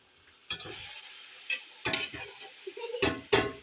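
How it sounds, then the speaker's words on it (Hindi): Cooked meat being fried in masala for kabuli pulao, with bursts of sizzling and scraping as it is stirred in the pot, close and intermittent, no talking. "इसमें हम इसको फ्राई करते हैं मसाले के अंदर ही।"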